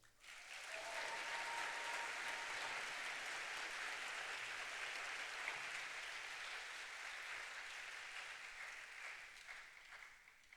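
At a Republic Polytechnic graduation ceremony, a large audience breaks into a long, even round of applause that swells quickly, holds steady and then tapers off slightly.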